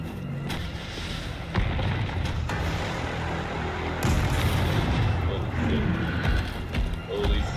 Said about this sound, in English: Oh, with a new weapon. Yeah, it's a fucking rocket launcher?